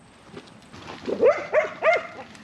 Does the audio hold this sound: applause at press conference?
no